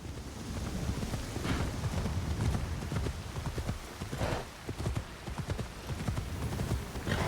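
Horse hooves clip-clop steadily while riding in an Assassin's Creed video game, a continuous, fairly quick trotting rhythm with light wind-like noise underneath, moderately close and not loud.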